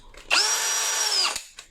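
A Dongcheng 20V cordless electric drill spins up on a repaired battery pack, a single steady high whine lasting about a second before winding down, close and loud.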